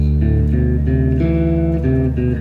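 Heavy metal bass guitar holding a low D beneath distorted guitars sustaining an A, a thick, continuous chordal drone with chord changes in a steady rhythm, loud and dense with no gaps.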